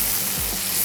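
Dhaba-style mutton being re-fried (bhuna) in a pan for a green masala daal dish, giving a steady, close, continuous sizzle and crackle of hot oil throughout with no talking.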